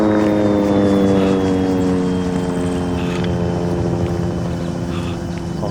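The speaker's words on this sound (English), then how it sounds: "Our helicopter, I can hear it." A helicopter arrives in the Arma 3 video game, its loud, droning rotor and engine hum steady and close throughout, with a faint high whine above it.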